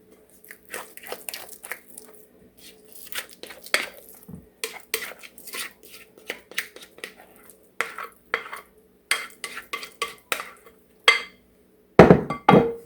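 Potato mixture for a pierogi casserole being scraped and spread around a casserole dish, with repeated soft scrapes and clinks of a utensil against the dish, close and steady, ending in a louder clatter.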